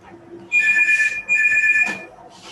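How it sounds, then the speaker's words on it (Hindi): A phone rings in the background during a call, two bursts of a bright electronic trill with a short gap, fairly distinct against faint room noise. "वो आपके पीछे फोन की आवाज आ रही,"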